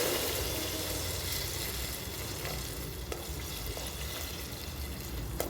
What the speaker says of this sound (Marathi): त्याच्यामध्ये मी पाणी घालून घेते।